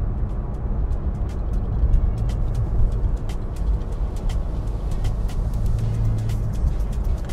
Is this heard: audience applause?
no